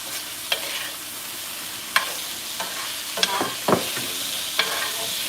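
Shrimp frying with teriyaki on a hot hibachi griddle, a steady loud sizzle broken by several scraping clicks of a spatula stirring, close up and with no talking.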